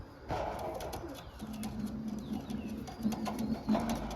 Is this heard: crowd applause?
no